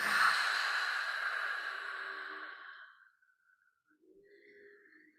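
A long, deep breath during a guided breathing exercise: one slow, airy exhale that fades out, followed by a fainter breath, close to the microphone with no speech over it.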